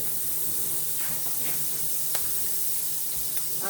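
Three tablespoons of butter sizzle in a hot pan with bits of chicken left in the bottom, a steady loud hiss with a few small pops and scrapes and no talking.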